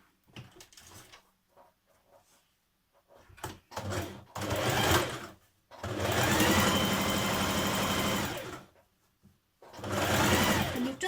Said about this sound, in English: Take your shoulder straps and fold them in half with right sides facing, and we're going to stitch them lengthways.